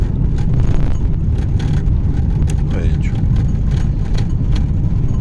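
Tractor engine drones steadily while sowing soybeans in a field, a loud continuous low rumble with wind buffeting the microphone throughout and no talk over it.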